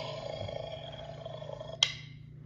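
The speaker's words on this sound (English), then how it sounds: "Lion." A lion roars in a low, sustained rumble at moderate volume with no other voices, ending in a brief sharp click just before it fades.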